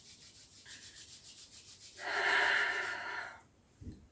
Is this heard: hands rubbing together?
yes